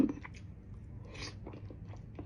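Someone chews boiled eggs close to the mic in a steady run of soft, moist bites and munching, with brief hums mixed in and no other talking.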